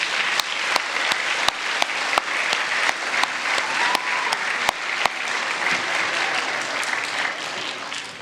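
An audience at a school end-of-year awards day applauds a group of honored students, producing a full, sustained round of clapping with a few sharp nearby claps punctuating the even wash before it gently tapers off.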